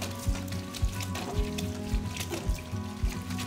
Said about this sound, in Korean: 찬물에다 담그고 이렇게 한번 비벼 씻어주세요.